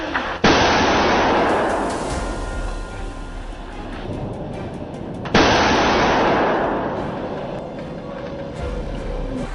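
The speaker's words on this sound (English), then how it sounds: "Gunfire erupted from all directions." Two heavy blasts of gunfire, each a sharp onset followed by a long rumbling decay, echoing loudly as if outdoors.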